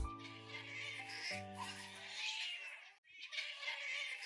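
A cat crying and caterwauling outside at night, drawn-out wavering yowls heard at a distance through a room, with a brief break near the end before the cries resume.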